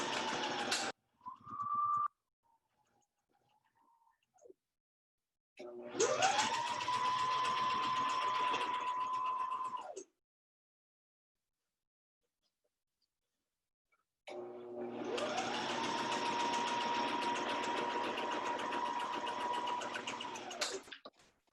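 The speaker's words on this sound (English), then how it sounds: "I'm gonna sew the bottom part the same way that I did the top part" A sewing machine stitching the bottom seam of a fabric face mask, running in two sustained bursts of several seconds each with a steady whirring hum, separated by quiet gaps, after a few short starts at the beginning.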